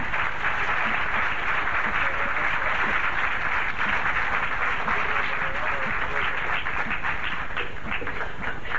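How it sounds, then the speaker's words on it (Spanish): Sustained applause from a large lecture audience, dense and steady clapping throughout, with faint murmuring mixed in. "voy a terminar simplemente pidiendo un aplauso para el Vasco"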